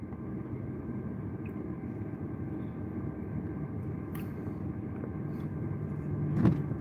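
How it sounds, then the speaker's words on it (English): Big truck passing on the road heard from inside a vehicle heading into a small town, a steady low rumble of engine and road noise that swells slightly near the end with a brief clunk. "Big truck, big truck."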